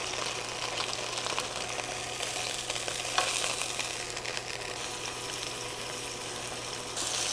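Beef pieces fry in oil in a skillet, a steady close sizzle and crackle running unbroken throughout with no talk.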